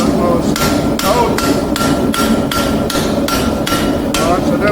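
Hammer blows strike heated, pre-drilled metal at a forge, about ten loud, evenly spaced ringing impacts close by with no talk.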